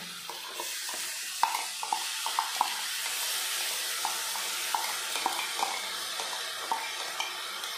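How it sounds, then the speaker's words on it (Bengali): Ginger-garlic paste and onion sizzle in hot oil in a pan for a spicy Bengali egg curry, a steady bright hiss close by, punctuated by regular clinks and scrapes of a spatula stirring. "এবার দিয়ে দেবো বেটে রাখা আদা রসুন আর একটু পেঁয়াজ।"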